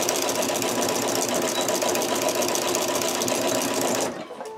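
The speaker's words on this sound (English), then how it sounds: "Now I'm gonna reinforce my stitches. And I'm gonna go back and forth quite a bit here." A sewing machine runs back and forth to reinforce stitches on a jelly roll fabric rug, a fast steady mechanical whir that stops abruptly near the end.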